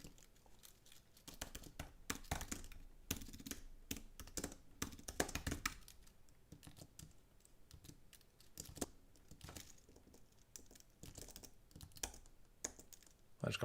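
A computer keyboard is typed on in bursts of quick, light key presses at close range, with short pauses between runs of tapping.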